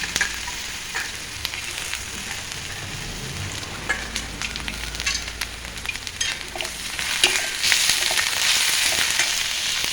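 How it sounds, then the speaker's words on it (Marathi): Onion and soaked chana dal frying in hot oil, a steady crackling sizzle close by that grows slightly louder and denser toward the end, with no talking. "कांदा आपल्याला तेलामध्ये फ्राय करून घेऊया"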